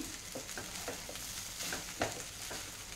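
A spoon stirs salt into mint rice in a pan, making soft, faint, irregular scraping and gentle sizzling with no talk.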